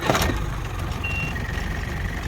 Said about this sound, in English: It beeps to let you know it's on.